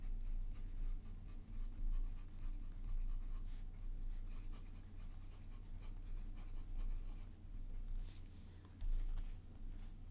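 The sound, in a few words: fountain pen writing on paper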